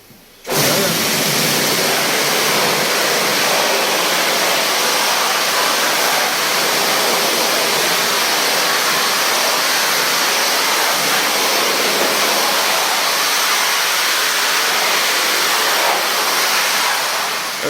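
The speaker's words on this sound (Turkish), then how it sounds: "Dinamodan şimdi su basıyor" Water from a pump rushes hard through a Temsa Safir bus radiator to flush it. The roar is loud and steady, starts abruptly and carries on without a break, and no one talks.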